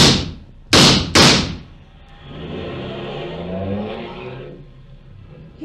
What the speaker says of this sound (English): He got away, didn't he, Mr. Clover? In a car